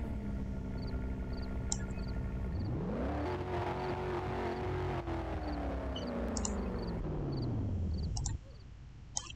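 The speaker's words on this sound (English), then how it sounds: "We gotta get an engine startup." A BMW M5 engine in Roblox whines up in pitch and holds a steady revving drone before cutting off, with faint electronic beeps in the background.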